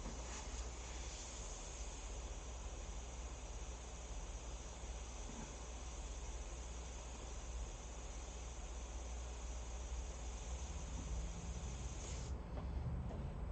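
An airbrush sprays paint in a steady, continuous hiss that runs almost unbroken and stops abruptly near the end, heard alone with no talking.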